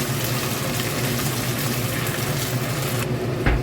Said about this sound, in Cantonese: 再加入少少水